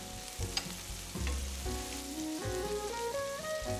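Sofrito with peperoncino and parsley frying in a pan for seafood fideuá, a dense crackling sizzle that swells and settles as it is stirred, near and steady with no voices.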